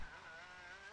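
A car engine drones past in a Grand Theft Auto Vice City mission, a faint steady hum with a slight pitch shift as it moves by, no talk over it.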